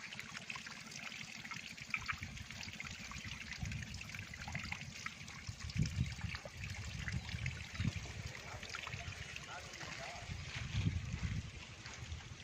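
Water trickles steadily from drip irrigation taps feeding coconut and mango trees on farmland, a soft continuous dribble with faint low splashing, heard close and quiet.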